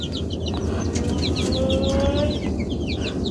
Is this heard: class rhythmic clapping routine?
no